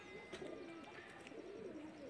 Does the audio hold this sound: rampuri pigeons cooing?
yes